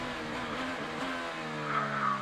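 An IndyCar engine at the Grand Prix of St. Petersburg holds a steady, loud idle with rising revs, heard in-car, a rough mechanical drone filling the whole moment, no voices.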